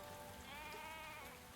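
Sheep bleating inside a video game tavern, a soft, wavering bleat over a steady patter of rain-like ambience, with no talking.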